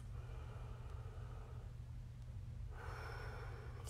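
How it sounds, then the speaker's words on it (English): Slow, deep breaths taken while preparing with rose essential oil rubbed between the hands, soft airy inhales and exhales over a steady low hum, with a quieter pause before another breath. "rub your hands together and take some deep breaths"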